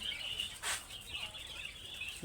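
Caged quail chirp in short, thin calls near feeding pots, with a brief flutter or rustle among them over a quiet background.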